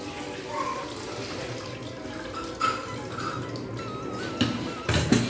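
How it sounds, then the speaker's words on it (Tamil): Tap water runs over homemade paneer being rinsed, a steady low splashing stream with a few louder drips and splashes near the end, no talk. "டேப் வாட்டரில் லைட்டாக ஒன்ஸ் வாஷ் பண்ணி எடுத்துக்கலாம்"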